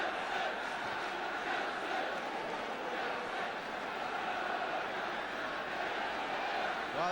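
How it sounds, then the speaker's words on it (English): Football crowd roaring at Stamford Bridge in a 1976 Second Division match between Chelsea and Wolves, a steady dense wall of cheering and shouting that holds loud and even throughout without letting up. "Well, that's got the crowd going."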